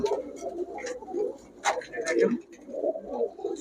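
Pigeons coo in soft, repeated throaty bursts close by, with a few brief higher chirps mixed in and a voice speaking faintly around them.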